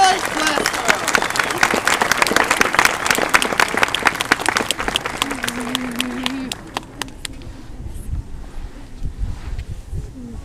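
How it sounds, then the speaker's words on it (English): Audience applause for guests and staff at the close of a sophomore skit show in Glasgow, dense clapping that thins out partway through, leaving scattered claps and a voice. "Let's give a big round of applause to our guests and staff."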